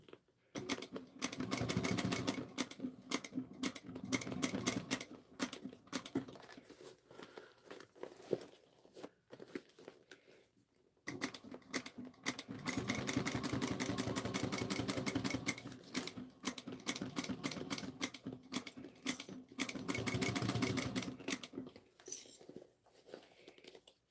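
A sewing machine stitches a zipper seam in fast, close rattling bursts. Two long runs are split by a short pause, and smaller stops and starts come in between.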